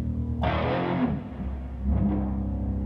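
Bass guitar played through a resonant filter effect, a sharp plucked attack at the start giving way to a sweeping, vowel-like resonant tone that decays and shifts with a second softer note.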